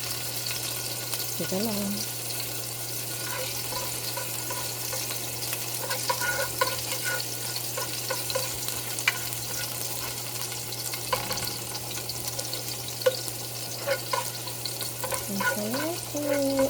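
Garlic sizzling in hot oil in a pan for a vegetable stir-fry, a steady dense frying crackle with occasional stirring scrapes throughout, while a person speaks briefly over it.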